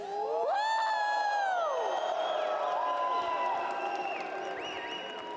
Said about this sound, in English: the crowd is absolutely electric